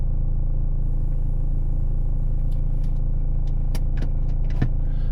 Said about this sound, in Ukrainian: Зараз цей автомобіль припаркується.